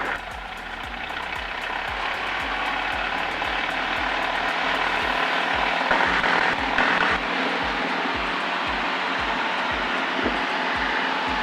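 A TBM single-engine turboprop airplane builds power on the runway before takeoff, its propeller throb pulsing steadily under a loud engine drone that swells midway through.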